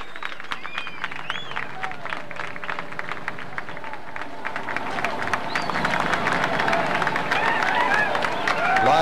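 A crowd claps at the 1987 rescue of a child from a well in Midland, Texas, faint at first and building steadily louder, with scattered voices mixed into the applause.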